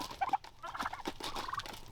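Commercial-breed turkeys crowding a feeder and gobbling, several rapid warbling calls overlapping near the microphone, with pecking and shuffling underneath.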